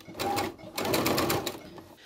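A sewing machine stitches a small back tack at the point of a double-pointed dart in fabric, running in two close, steady bursts with a brief pause between them.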